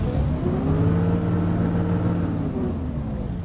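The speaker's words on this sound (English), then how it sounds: "Engine sounds are absolutely awesome." A deep bus engine in OMSI 2, a C400R, drones steadily and close, its pitch sweeping up and back down as it revs, with no talking.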